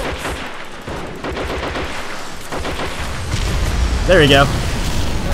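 Rocket explosions and gunfire in the Men of War: Assault Squad 2 game rumble as a dense, continuous battle din, while someone talks over it.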